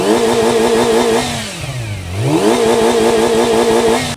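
A QJMotor SRK250RD sport bike's 249cc engine revs loud and close, holding a steady high note before dropping and climbing again in one sweeping blip, then settling back to a sustained rev.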